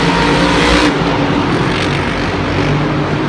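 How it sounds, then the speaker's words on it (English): A monster truck engine roars loud and close while racing at a Monster Jam event in Miami, giving a dense, continuous rumble that shifts tone partway through. "Weird sounds coming from that engine"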